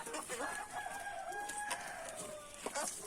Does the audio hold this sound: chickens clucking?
yes